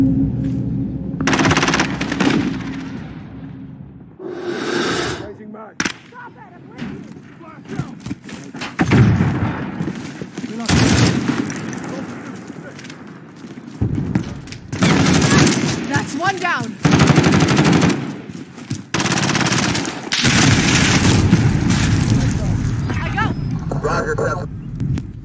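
Call of Duty: Modern Warfare combat with loud, dense machine-gun bursts and single shots, thuds and booms, continuing almost throughout, with voices calling out over the fighting.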